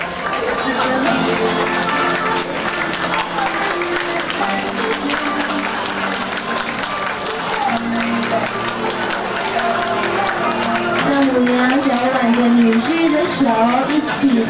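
Steady applause from a crowd of banquet guests fills a wedding hall as the groom enters, continuous and dense beneath music and an announcer's amplified voice throughout.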